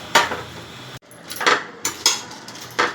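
A lid is set down on a cooking pot of sautéed garlic cloves and Kashmiri red chillies for homemade tomato chilli sauce, giving several sharp metallic clanks spaced about half a second apart, close and fairly loud, with no talking.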